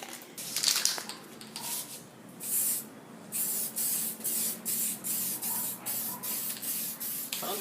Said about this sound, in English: We're officially gonna paint it using this metallic silver with very thick clear because I like shiny.